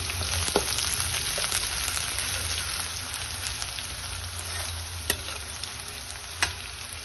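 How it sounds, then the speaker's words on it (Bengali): Chopped onion and whole garam masala fry in a pan with a steady, dense sizzle and a few faint clicks of a utensil, heard alone without talk. "এবারে পেঁয়াজটা আর এই গোটা গরম মশলাটাকে একটু ভাজা ভাজা হতে টাইম দেব।"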